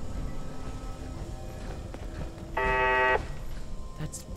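A single harsh electronic beep tone in Fallout 4 sounds for about half a second amid background game noise and muffled movement sounds.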